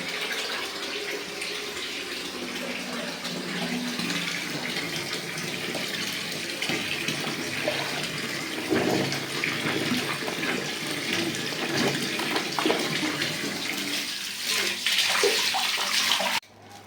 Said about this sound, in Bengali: কাপড় ভিজিয়ে দিয়ে এসছি